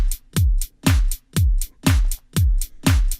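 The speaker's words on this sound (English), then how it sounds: "if you just have a simple 4 on the floor kick, the 2 and the 4 with your snare or clap or whatever, and then just generic 16th note hi-hats" Simple programmed drum beat with a four-on-the-floor kick, snare or clap on two and four, and steady sixteenth-note hi-hats, punchy booming kicks repeating evenly, loud and close with no voices.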